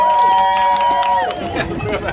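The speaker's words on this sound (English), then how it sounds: "round of applause to Andrew" A small crowd at a casual leg-making party cheers and hollers for a participant, with a sustained whoop early on and overlapping shouts and claps close by, over general hubbub.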